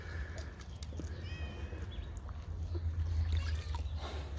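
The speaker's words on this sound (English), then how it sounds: "time to feed all the cats. Here they are. They're waiting for their food." Several cats meow while waiting to be fed in a garden, short rising mews scattered early on over a low rumbling background that grows louder toward the end.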